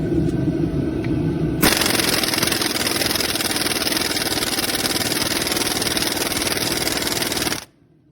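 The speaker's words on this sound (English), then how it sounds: "The impacts on that wrench definitely sound a lot more reassuring than a regular socket" An air impact wrench drives a Lisle 19 mm harmonic balancer socket on a Honda, hammering in a loud, continuous rattling burst that lasts about six seconds and then stops abruptly.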